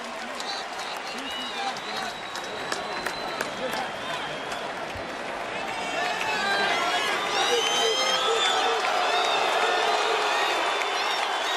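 Crowd at a boxing event in LA applauding and cheering, a dense wash of clapping and whoops that swells louder partway through, with a voice speaking over it.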